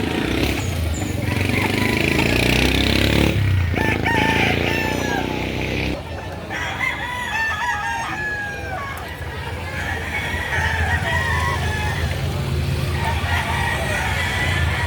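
Young rooster, a seven-month-old stag, crowing amid the busy clamor of a poultry market in Batangas, with other fowl clucking and people talking throughout; the crow rises over a dense, steady background.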